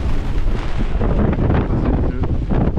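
Strong wind of 30-35 knots blows at sea near the Hyères islands, a loud continuous roar buffeting the microphone throughout, with no voices.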